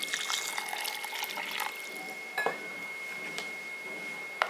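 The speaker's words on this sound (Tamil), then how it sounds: "இப்போ இதில் கொஞ்சம் தண்ணி ஊற்றி நம்ம" Water trickling into a mixer jar holding rice and coconut for payasam, a soft close splashing with a couple of light clinks of the jar, quiet and without talk.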